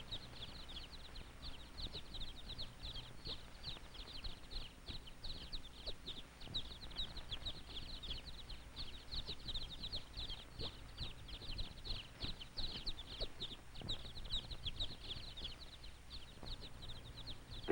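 A crowd of baby chicks at a 1950s poultry hatchery peep steadily and densely, with many overlapping high chirps continuing throughout at a moderate, even level.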